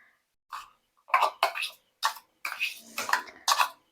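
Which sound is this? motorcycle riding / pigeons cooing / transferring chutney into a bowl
transferring chutney into a bowl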